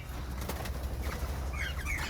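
Spotted turtle doves and crimson rosellas in an aviary, with faint scattered chirps and a brief soft flutter over a low steady background hum.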